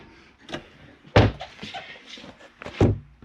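An RV rear door of a Montana 3711FL fifth wheel opening and closing, with a few sharp thuds and latch clunks, the loudest around the middle and end, close and fairly distinct.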